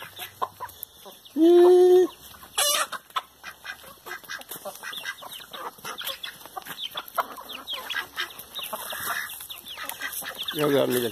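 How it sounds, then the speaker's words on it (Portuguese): Chickens cluck and squawk near and far, with a loud fowl call early on and a busy barnyard chorus throughout. "pede para eu filmar minhas galinhas aqui"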